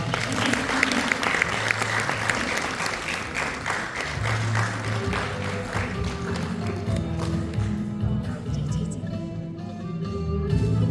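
A theatre audience at an actress's 50th jubilee evening applauds in a dense, sustained wave of clapping, while musical tones start to rise underneath and gradually take over in the second half.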